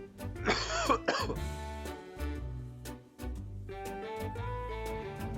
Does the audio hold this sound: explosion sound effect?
no